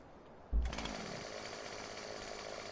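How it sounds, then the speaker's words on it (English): A chainsaw on a farm starts abruptly and then runs at a steady, loud, buzzing drone, ready to cut the tops off fence posts, with no talking over it. "Right, let's get the chainsaw out."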